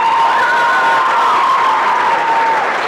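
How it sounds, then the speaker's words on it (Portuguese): A dense, loud wash of audience applause and cheering fills a Brazilian hospital wing inauguration after a children's dance performance, steady throughout, with a sustained tonal whistle or shout riding on top. "Nossos aplausos"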